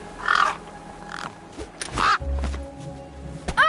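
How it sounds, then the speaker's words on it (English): Crows cawing in the video game Beneath a Steel Sky, several harsh loud caws spaced across a few seconds, mixed with thuds and light footsteps. "Damn birds!"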